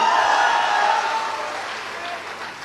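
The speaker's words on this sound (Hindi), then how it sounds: "पीछे से ताली बजा रहल बा" An audience claps at a live stage performance of a folk song about unemployment, a dense, steady wash of applause that fades slightly toward the end.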